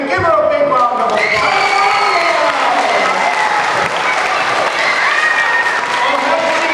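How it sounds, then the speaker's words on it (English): An audience gives a round of applause at a book event, with loud, sustained clapping from a crowd mixed with scattered cheers and children's shouts, the whole thing continuous from start to end. "Give her a big round of applause."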